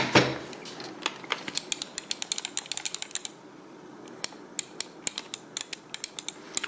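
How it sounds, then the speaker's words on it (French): Screws being undone with a Phillips screwdriver on an 8Bitdo arcade joystick, giving quick close ratcheting clicks in two bursts, a short pause between them, with no talking. "Je dévisse ces 4."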